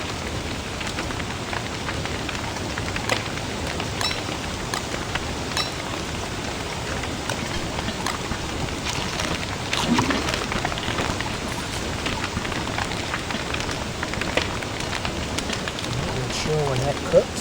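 Steady rain hiss in the video game Don't Starve, an even wash of falling drops that holds throughout, with a faint fire crackle possible beneath.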